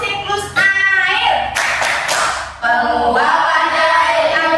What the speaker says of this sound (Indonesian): Tepuk siklus air.